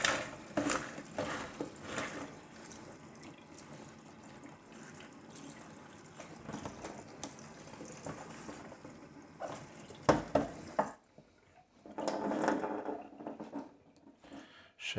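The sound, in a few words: rinsing salad under cold running tap water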